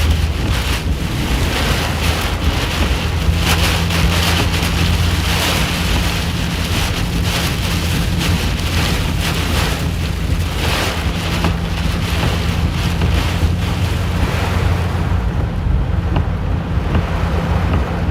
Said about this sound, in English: wind just shifted like big time.